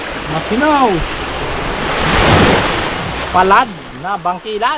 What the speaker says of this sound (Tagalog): Yung maingay lang ang alon.